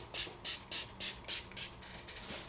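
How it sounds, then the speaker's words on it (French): Makeup setting spray misted from arm's length in six quick, evenly spaced bursts of hiss followed by a fainter seventh, each puff close and soft, with no talking. "le spray, donc vous l'appliquez à une longueur de bras en fait"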